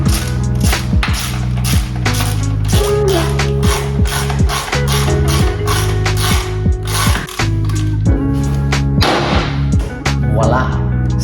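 Ratchet clicking while a crash bobbin is mounted on a KTM 1290 Super Duke R EVO motorcycle, with loud rapid bursts of clicks in steady strokes throughout, over a constant background of music.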